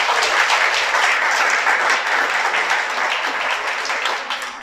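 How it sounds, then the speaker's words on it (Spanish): A church congregation at a Sabbath service claps in sustained, dense applause that stays loud throughout and tapers slightly toward the end. "Otro aplauso a Él, por favor."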